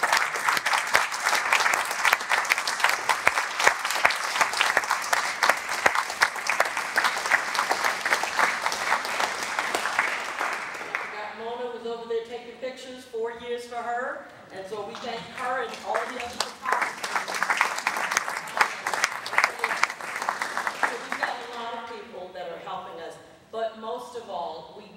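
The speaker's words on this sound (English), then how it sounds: "So please give a round of applause to our judges." Audience applause for the judges at a vocal competition winners' concert, loud sustained clapping from a large crowd for about ten seconds, then fading into scattered claps as a voice talks, before a second swell of applause and a tail-off.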